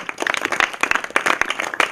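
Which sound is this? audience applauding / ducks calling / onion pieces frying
audience applauding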